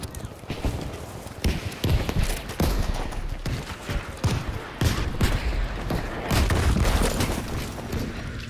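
M1 Garand rifle fire in Battlefield 5 amid a busy battle, steady shots and blasts over dense ongoing combat noise, with a voice faintly in the mix.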